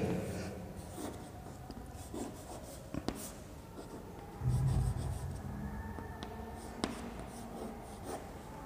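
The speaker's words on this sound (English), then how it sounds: "This I am writing capital M by capital W by capital M." A pen writes on paper close by, with steady scratchy strokes and short taps broken by pauses, occasional rubbing, and no talk over it.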